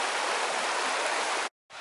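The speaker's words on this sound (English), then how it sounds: "there's so much water in this river" River water at Bettws-y-Coed flows in a loud, constant close-up rush of broadband noise, cut off by a brief gap of silence before resuming.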